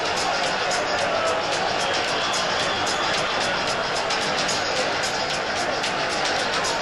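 A packed boxing arena crowd roars continuously before Roberto Duran and Sugar Ray Leonard's fight, a loud sustained din of cheering and shouting.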